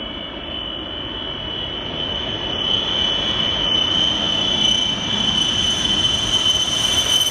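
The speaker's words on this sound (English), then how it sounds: "this overloaded plane that used every inch of the runway and still barely took off at the last second" An overloaded Boeing 747 takes off from a runway, straining to lift off at the last second and tearing through bushes beside it; a loud, steady broadband jet roar sustained throughout, with no talk.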